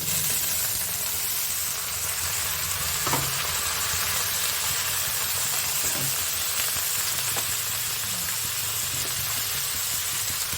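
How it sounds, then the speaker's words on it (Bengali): Onions fry in a pan as taro leaves are dropped in, making a loud, continuous hissing sizzle with a few faint taps and stirs underneath it. "পেঁয়াজগুলো অল্প লাল হয়ে গেছে, এবার আমি কচু শাক ওর মধ্যে দিয়ে দিচ্ছি।"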